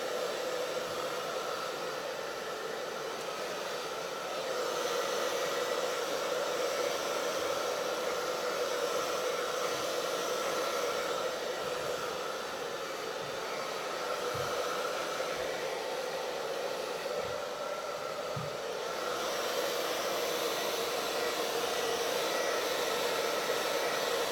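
A hair dryer blows continuously, a steady airy whoosh with a constant whine, running without pause and no one talking.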